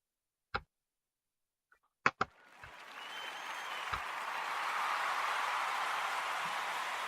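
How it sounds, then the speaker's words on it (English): A crowd cheers and applauds in tribute to football great Bart Starr, starting after a few sharp clicks and swelling into a steady, broad wash of clapping and cheering that holds to the end. "One more crowd cheer for the man"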